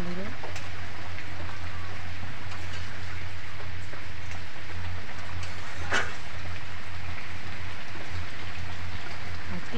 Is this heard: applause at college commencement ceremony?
no